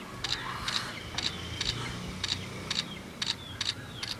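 Realme C3 smartphone camera shutter firing about nine times in a steady run, each a short crisp click standing out clearly over faint background hiss.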